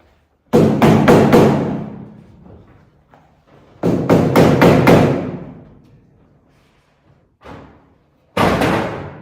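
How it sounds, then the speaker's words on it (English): Several sharp, loud hammer taps in quick bursts of four or five, separated by pauses, with a couple of lighter knocks in between. "Maybe just give a little tap with a hammer."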